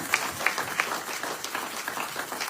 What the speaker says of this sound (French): On acclame très fort pour la gloire de Dieu.